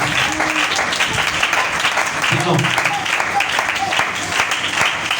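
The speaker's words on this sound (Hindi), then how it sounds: "जोरदार तालियां खुदा के जलाल के लिए, जोरदार तालियां" Loud applause fills a church service, continuous crowd clapping throughout with faint tonal sounds and voices mixed in beneath it.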